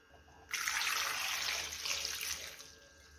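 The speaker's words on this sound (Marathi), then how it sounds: "टोमॅटो बुडेल इतकं आपण पाणी टाकलेलं आहे" Water splashes from a tap into a pot of tomatoes, a sudden steady gushing pour that starts abruptly, runs for about two seconds, then tapers off.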